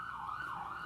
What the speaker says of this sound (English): We have a police in the background, the siren.